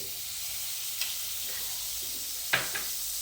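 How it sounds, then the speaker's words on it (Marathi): Butter sizzles in a pot as the base for a restaurant-style butter chicken gravy: a constant, close frying hiss broken by two sharp utensil knocks against the pot. "पहिल्यांदा भांडं एक ठेवलेलं आहे त्या भांड्यामध्ये थोडंसं परत बटर घालून घेऊ"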